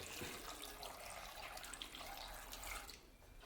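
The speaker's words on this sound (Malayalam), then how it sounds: "ഇനി ഇത് വേവാൻ ആവശ്യമായ വെള്ളം" Water is poured into a pot of curry seasoned with green chilli, rock salt and curry leaves, a steady close splashing gush that runs for about three seconds and then stops.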